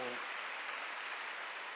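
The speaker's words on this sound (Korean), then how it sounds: "박수를 하세요" A church congregation applauds at a Wednesday worship service, a steady, faint wash of many hands clapping that carries on evenly throughout.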